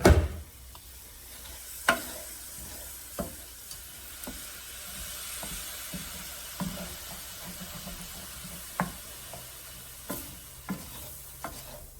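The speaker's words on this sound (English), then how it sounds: "Stir those well. Make sure it doesn't stick." Red lentil dahl stirred in a pot, with a spoon scraping and knocking against the pot at irregular intervals over a soft, continuous simmer or sizzle, close and fairly quiet.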